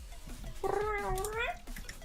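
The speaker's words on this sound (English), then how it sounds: "So if you guys hear destructive sounds from the background, I apologize. It's the cats." A house cat gives one drawn-out, wavering meow that rises and falls, close and clear over faint room noise, sounding like a playful call to another cat.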